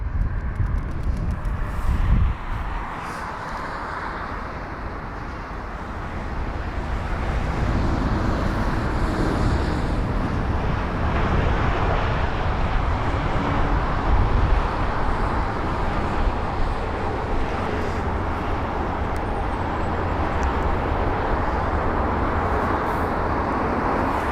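A jet airliner in a new Saudi livery glides onto a runway at London Heathrow on a windy day, its steady broad engine and wind roar holding loud and continuous throughout, with a brief dip in level early on.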